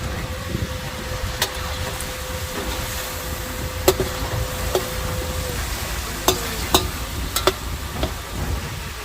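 A large pan of paella seasoned with saffron and Spanish spices is stirred at an outdoor market, with a steady sizzle and low background rumble broken by scattered scraping clicks of the utensil against the pan.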